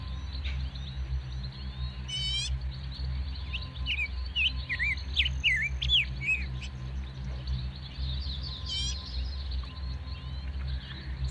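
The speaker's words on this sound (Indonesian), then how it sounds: "betul saja, itu suara anak ayam." Several high chirps in short bursts over a low steady rumble, fairly quiet and sounding a little distant.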